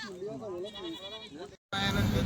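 Goats bleat in loud, wavering, drawn-out cries close by, one call following another, before a brief silence gives way to louder noisy background sound.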